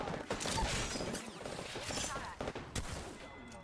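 Rapid gunfire in an Apex Legends match played as Pathfinder, dense and continuous throughout with mechanical clatter mixed in.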